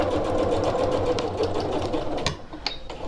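A sewing machine stitches along a zipper on a reversible tote, running steadily and close, then slowing and stopping near the end with a few faint clicks.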